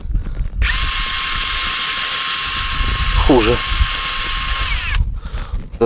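WOSAI WS-MD13 brushless 20V cordless drill on plain drilling mode, without hammer, boring into a concrete tile: a loud, high whine starts abruptly, dips and labours briefly midway, then cuts off, with a short spoken word near the end.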